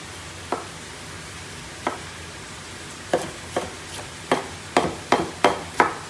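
A knife rough-chops vegetables for ratatouille with heirloom tomatoes on a board, sounding as sharp, close thuds: a few spaced strikes at first, then a quicker run of chops.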